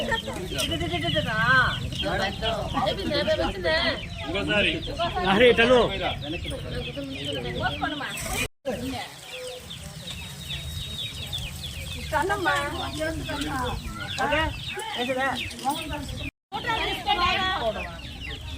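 A chicken clucks repeatedly at a haldi wedding ceremony, close and fairly loud, its clucks mixed with busy talk and chatter from several people throughout.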